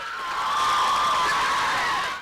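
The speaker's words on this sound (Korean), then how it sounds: "학교에선 어린 학생들이 환호성을 지릅니다." Young schoolchildren cheer together in a continuous, high-pitched burst of shouting that holds steady before tapering off at the end.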